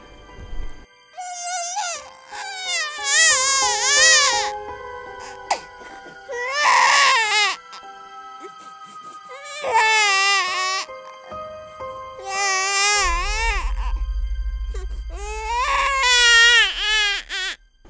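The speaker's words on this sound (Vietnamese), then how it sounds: "Có tiếng con nít khóc vọng về từ đằng xa." An infant wails in repeated, drawn-out bursts over about eighteen seconds, with brief pauses between cries, and a low rumble comes in near the end.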